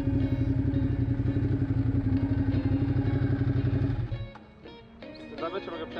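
A motorcycle engine runs loud and steady with a deep rumble, then eases down to a quieter idle near the end.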